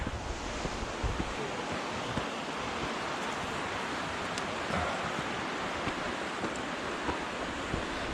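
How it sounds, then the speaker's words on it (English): Steady rushing water roars continuously from Canyon Creek, a mountain creek in Glacier National Park, Montana, a broad hiss mixed with light wind noise, no voices. "Canyon Creek is right over there. I can still hear it."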